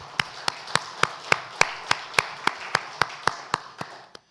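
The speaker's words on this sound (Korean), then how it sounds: "우리 박수로 축하합시다" A church congregation claps together to celebrate members' birthdays during a Sunday service, producing a steady, evenly spaced run of about fifteen sharp claps that slows slightly and stops.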